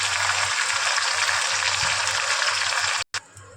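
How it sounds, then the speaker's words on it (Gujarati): A Gujarati vaghar tempering for moraiya dhokla boils in a pan over a high gas flame, giving a loud, steady, dense sizzle and bubble that cuts off abruptly near the end, followed by a quieter tail. "આપણો વઘાર છે તે સરસ મજાનો છે તે ઉકળી ગયો છે"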